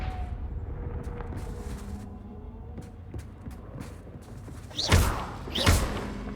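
A Confringo blast spell goes off in a Harry Potter video game, two loud explosive bursts with a whooshing crack landing about a second apart near the end, over a low rumbling game ambience.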